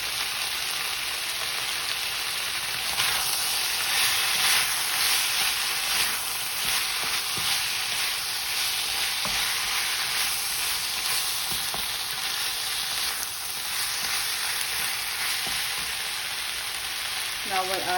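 Mushrooms sizzle and crackle in a hot pan while being stirred for a chicken yellow curry, a steady close frying hiss with occasional scraping stirs, no talking.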